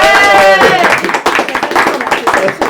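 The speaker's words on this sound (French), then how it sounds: "Je pense qu'on peut même s'applaudir pour faire du bruit dans les casques des gens." Podcast participants applaud themselves right into their microphones, giving loud, close, slightly distorted clapping with rapid uneven claps, as a voice carries on over the start before the clapping takes over.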